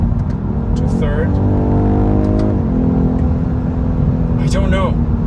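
A 2021 BMW 4 Series Coupe accelerates hard through a gear change into third, its engine note climbing, dipping at the shift, then pulling again from inside the cabin, with a voice speaking briefly over it.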